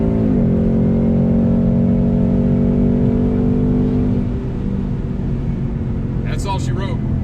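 A C7 Corvette roars hard through a 60-130 mph roll race, the engine note climbing steadily and loud before easing off, with brief voices near the end.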